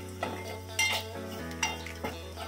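A spoon scrapes and clinks against a pan as yogurt is stirred in for dahi tadka, with a few sharp metallic knocks over a low steady hum and faint sizzle.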